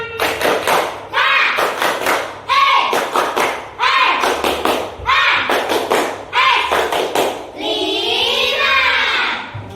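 Students in an Indonesian classroom clap a patterned cheer in loud bursts of rhythmic hand claps, separated by short gaps, with a sung or chanted voice rising near the end.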